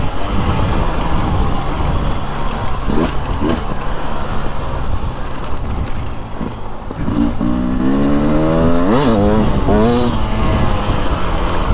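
A 2023 Beta 300 Race Edition dirt bike ridden on a mountain trail, its engine droning loudly and close, then revving up hard in rising bursts as the rider opens the throttle.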